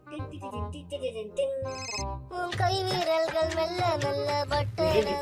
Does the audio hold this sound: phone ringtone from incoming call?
yes